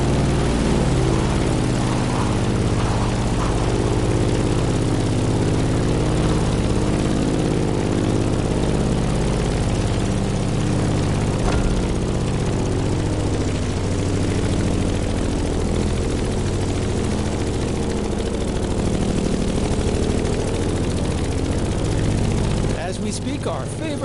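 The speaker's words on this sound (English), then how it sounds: "In the cockpit of a stunning Grumman F8F Bearcat, or simply the Bear." A Grumman F8F Bearcat propeller fighter flying in the racing game The Crew Motorfest, giving a loud, steady engine and propeller drone that holds unbroken throughout.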